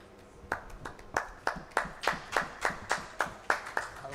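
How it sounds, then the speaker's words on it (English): One person clapping alone at an NGO HR summit, about a dozen crisp, evenly spaced claps at a steady moderate pace, fairly close but quiet, with no talk. "I'll clap for you for that."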